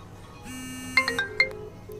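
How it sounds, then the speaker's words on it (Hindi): A WhatsApp video call ringtone plays on a phone: a short, close melodic chime with a few bright, bell-like tones over faint background hiss. "अब वीडियो कॉल लगाते हैं"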